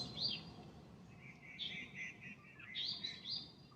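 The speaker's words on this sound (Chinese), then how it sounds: "看鸟叫声吧，有吧？" Birds chirp and sing beside a lake at Chengcing Lake in Kaohsiung, several short bright calls in bursts over a quiet background, fairly faint and unaccompanied by talk.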